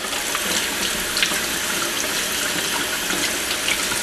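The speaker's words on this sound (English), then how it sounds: "just rinse it under cold water" Cold tap water runs steadily from a faucet into a sink as sauerkraut is rinsed for a cake, a loud, continuous close splashing gush with no talk.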